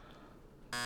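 A quiz buzzer sounds near the end, a short loud electronic tone after quiet background, briefly cutting out before sounding again.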